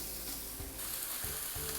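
Pork belly sears in a dry pan with no added oil, giving a steady, fairly loud sizzle and crackle throughout, alone without any voices.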